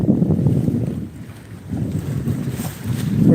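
Heavy wind buffets the microphone in low rumbling gusts that swell and fade, with nothing else clearly audible, aboard a ketch sailing on the South China Sea.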